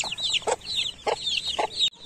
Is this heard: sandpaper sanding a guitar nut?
no